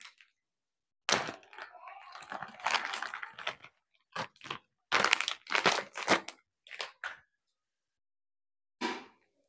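A pro weightlifting wrist support's packaging is opened up close in a series of sharp crinkling, tearing and crackling bursts, separated by short quiet gaps.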